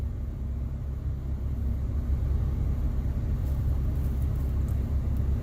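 Inside the cab of a Toyota Tacoma fitted with a Magnaflow muffler and no tailpipe, the warming engine idles at about 1200 RPM as a steady, moderate low rumble with no talk.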